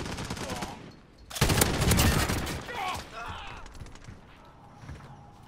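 Light machine gun fire in a Call of Duty match, a sustained automatic burst that swells loud and close after a brief lull, then trails off into scattered shots and background game noise, with a player's voice faintly mixed in.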